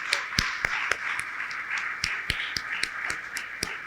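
A small audience at a New Jersey community affairs road show held at Fairleigh Dickinson University claps, sparse distinct handclaps in an uneven rhythm, fairly faint and close.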